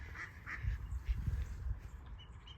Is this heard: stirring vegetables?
no